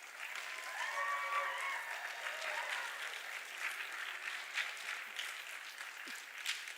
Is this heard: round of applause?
yes